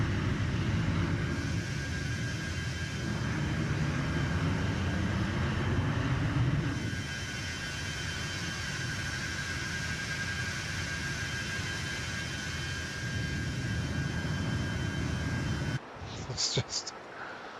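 MD-83 jet engines at climb thrust in a flight simulator game, a steady broad roar with a faint whine, holding evenly before dropping away into clicks near the end; speech is picked up over it.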